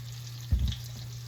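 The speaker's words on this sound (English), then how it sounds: "we're just going to sear those off until they're browned on both sides" Lamb chops seasoned with rosemary and garlic sear in a hot pan, a short burst of sizzle rising over a low steady hum.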